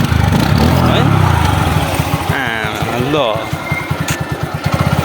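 A motorcycle engine idles with a steady, rapid thumping putter while someone talks over it outdoors near Sarangkot, Pokhara.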